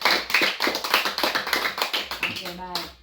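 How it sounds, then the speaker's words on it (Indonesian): A classroom of pupils claps hands in quick, fairly even rhythmic bursts, close and lively, with voices calling out over the clapping and a short sung or spoken tone near the end. "Tepuk tangan untuk kita semua dulu"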